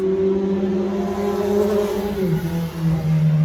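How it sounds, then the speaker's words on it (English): A loud motorcycle passes outside, its engine droning steadily and then dropping in pitch as it moves off, heard from an outdoor spot close to the road. "that motorcycle, you know, he just needed to be with us today. That's loud."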